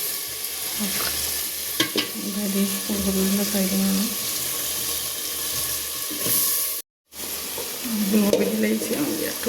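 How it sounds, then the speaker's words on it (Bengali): Spices sizzling as they hit hot oil, a loud bright crackle with stirring scrapes and clattering, a brief dropout midway, then sizzling again. "তেল গরম হয়ে গেছে মশলা ছাড়ি দিলাম"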